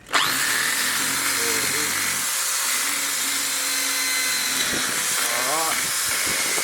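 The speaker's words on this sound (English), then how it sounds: "Now we'll just run the drill through." A power drill bores through a shaft while replacing a dowel at its tip, a continuous loud whirring hiss with shifting pitch, close up, and someone talking briefly over it.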